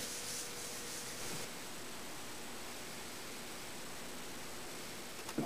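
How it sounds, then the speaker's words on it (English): Steady dry rubbing and soft rustling as fingers work finish into wooden planks for a fireplace mantel, continuous and close with a slight hiss throughout. "So all I do is just dip my fingers in and rub it in."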